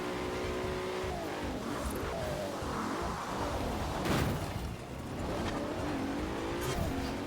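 A Bentley Bentayga engine in Forza Horizon 4 revs and whines, its pitch dropping and climbing again with each gear shift, continuous and fairly loud.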